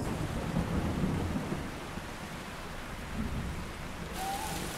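A tropical rainforest thunderstorm: steady heavy rain hissing across the foliage with deep rolling thunder rumbling underneath throughout, continuous and enveloping, without voices.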